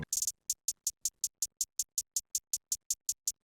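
A chopped hi-hat sample ticks in a quick, even run of bright, crisp hits, starting as a rapid shaker-like cluster and then settling into regular hi-hat strikes in a trap beat, close and fairly quiet, with no voices.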